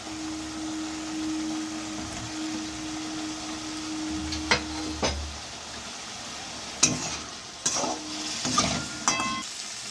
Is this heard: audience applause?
no